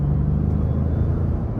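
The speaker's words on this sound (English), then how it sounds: "Now we're gonna try to give it some throttle here, getting on the interstate." A 2023 Ford Expedition King Ranch with a 3.5-litre twin-turbo engine, in sport mode and rear-wheel drive, accelerating onto an interstate, heard from inside the cabin as a steady low rumble and engine drone, with no talking.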